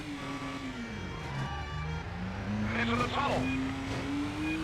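Game car engine from the Stuntman driving game, a sustained engine tone rising and falling in pitch with revs while someone talks over it throughout.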